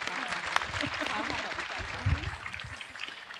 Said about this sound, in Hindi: उसके लिए तालियां बजाइए